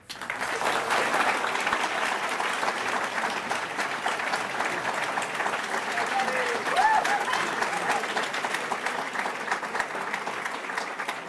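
Sustained applause from a room full of people at a 2012 Ohio congressional debate, steady and dense clapping that carries on for several seconds without letting up.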